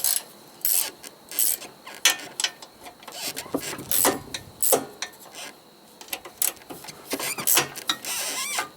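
A hand ratchet clicking in quick uneven bursts as it backs out half-inch and 3/8 bolts on a carburetor, close and crisp with short pauses between runs.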